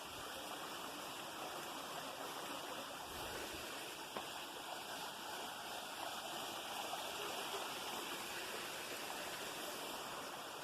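Waterfall in Holmfirth, heard as a steady, even rush of flowing water, moderately distant and fairly quiet, continuous with no voices.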